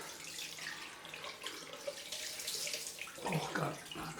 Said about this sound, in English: So it's a cold water rinse.